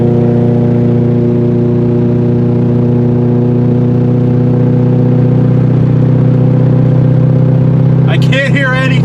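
A Chevrolet Corvette Z06 V8 drones steadily while cruising at around 2,000 to 3,000 RPM, a loud constant low hum inside the cabin, with a brief burst of sound near the end.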